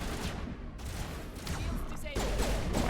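Gunfire in the video game Mass Effect, a dense continuous fusillade of overlapping shots with a louder burst near the end, heard under a man's speech.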